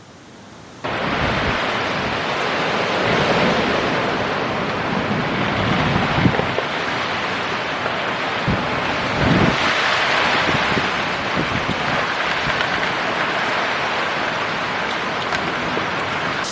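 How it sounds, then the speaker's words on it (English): Heavy rain rushes steadily with gusty wind buffeting the microphone, a loud continuous wash of noise after a quiet start. "it's raining really good now"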